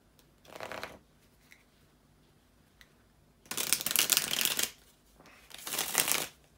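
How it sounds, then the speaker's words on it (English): Tarot cards being shuffled close by, three bursts of crisp riffling papery flutter separated by near silence, the later two longer and louder. "bear with me just a couple of seconds guys to shuffle the tarot cards"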